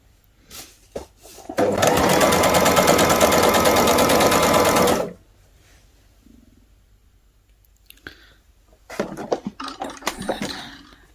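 A sewing machine stitches a trim strip onto the ankle hem of ladies' trousers in one loud, steady burst of about three seconds, then handling clatter and rustling of fabric close by.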